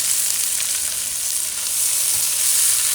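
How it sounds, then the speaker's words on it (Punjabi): Onions fry in hot oil in a pan for a bitter gourd and potato curry, making a loud, steady, hissing sizzle that barely varies over the few seconds, with no talking. "ਹੁਣ ਪਿਆਜ਼ ਨੂੰ ਐਨ ਚੰਗੀ ਤਰ੍ਹਾਂ ਭੁੰਨ ਲੈਣਾ"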